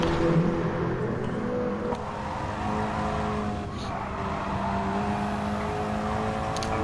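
A KTM X-Bow race car engine in a video game drones and revs steadily throughout, with shifting engine pitch and occasional faint tire noise, no talking.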